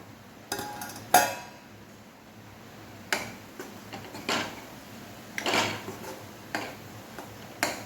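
A lid is lifted off a pot of mutton gravy with thick masala, giving a sharp metallic clink near the start, then several softer clinks and scraping knocks scattered at irregular intervals, close and fairly quiet.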